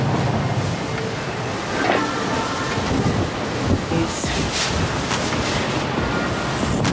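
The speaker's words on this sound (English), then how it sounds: "Super windy out here." Steady wind rushes and rumbles against the microphone, with brief rattling and a single short spoken word near the end.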